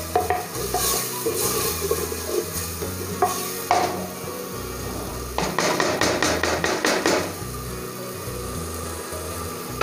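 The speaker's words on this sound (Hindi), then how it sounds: "ये जो है चॉपर मसाला जात जो है चॉप किए हुए वो भी डाल के हम थोड़ा सा इसे जो है वो फ्राई करेंगे।" Chopped masala frying in a pan for chicken makhni handi, with loud rhythmic knocks and scrapes of a spoon against the pan over a steady sizzle, and music underneath.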